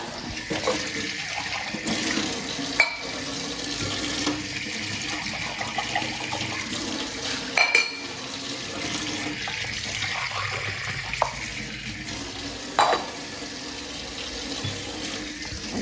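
Water runs steadily from a household tap while a glass is rinsed, a continuous splashing rush with a few sharp clinks and knocks of glass on metal spread through it.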